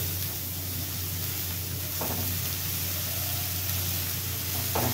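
Chopped dill leaves stirred into sautéed dal in a frying pan, giving a steady soft sizzle with brief stirring scrapes, close and even, no voices.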